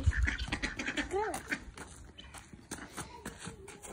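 Ducks quacking nearby in a yard among chickens, with a few short quacks and calls over rustling and footsteps, fairly faint, with a person's voice talking intermittently.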